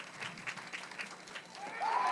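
A youth baseball crowd in Janesville, Wisconsin, cheers and claps after a strikeout, giving a fairly distant, moderate roar of applause that swells toward the end.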